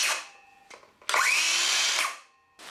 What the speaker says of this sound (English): as soon as you let go of the trigger, the saw stops almost instantly